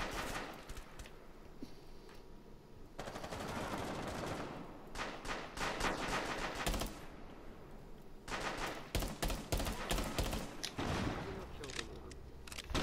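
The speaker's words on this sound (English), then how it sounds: "I was shooting the one guy with the shield." Loud bursts of automatic gunfire crack out in Rainbow Six Siege, with rapid strings of shots broken by short pauses and a denser volley toward the end.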